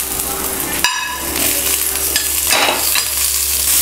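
Onion and tomato sautéing in oil for a pennywort leaf chutney, a steady close sizzle with stirring scrapes and a brief clatter near the start, no talking.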